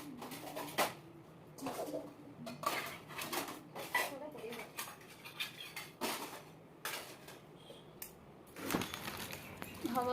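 Home dishes and utensils being stacked and handled, with sharp metallic clinks and clatters in irregular bursts, close by, while people talk intermittently and birds coo faintly in the background.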